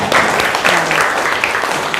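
Short burst of applause from a class of students in a high school lesson, uneven and somewhat loose, fairly loud and close, lasting only a couple of seconds.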